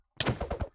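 A gunshot in a Minecraft game, a short loud burst of rapid report-like pops lasting under a second.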